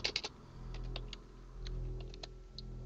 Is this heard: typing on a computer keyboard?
yes